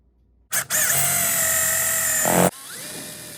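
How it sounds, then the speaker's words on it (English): A cordless drill bores a bolt hole, starting with a short spin-up blip before running a steady high whine under load for about two seconds, then stopping abruptly and spinning down, close and loud. "got my cordless drill ready to go"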